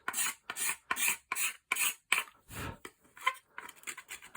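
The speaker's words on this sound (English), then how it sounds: "Cabinet maker's scraper. You can actually just take away all that excess crap" Cabinet maker's scraper drawn over a wooden Steyr Mannlicher Luxus rifle stock, about nine crisp, close rasping strokes in a quick, even rhythm, each a short burst of dry scraping with brief pauses between.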